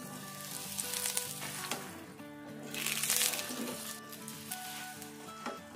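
A paratha frying in oil on a pan, with a steady broadband sizzle and spitting that swells loudest midway, under a background of tonal music.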